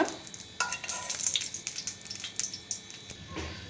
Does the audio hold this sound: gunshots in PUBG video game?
no